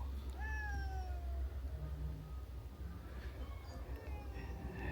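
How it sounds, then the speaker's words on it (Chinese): A kitten meows several times, thin rising-and-falling cries, a bit distant, over a low rumble of background noise. "这小猫"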